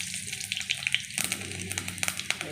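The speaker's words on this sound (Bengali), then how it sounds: "বড়া ভাজা তেলেই আমি পাঁচফোড়ন দিলাম" Panch phoron five-spice seeds dropped into hot oil left from frying mango fritters, a crackling sizzle with quick sputtering pops over a running watery hiss, close and lively.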